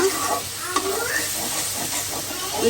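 Spice masala fries and is stirred in a pan, a close, steady sizzle and hiss broken by scraping stir strokes at an irregular pace.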